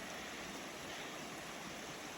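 Creek water in B Branch in the Sipsey Wilderness, running at unusually high volume after recent rain, makes a steady, full rushing wash that carries on alone throughout.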